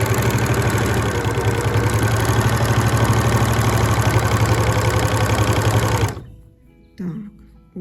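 An overlock serger stitches fabric with a loud, steady mechanical whir for about six seconds, then cuts off abruptly, leaving a short pause and a brief faint sound.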